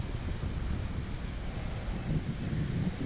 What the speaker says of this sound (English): It's a little windy, does not help.